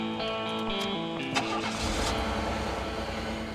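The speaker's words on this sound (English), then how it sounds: "he started that engine" A car engine cranking and catching, a droning whine giving way to a low steady idle rumble, close and fairly loud.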